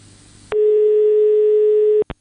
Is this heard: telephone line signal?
yes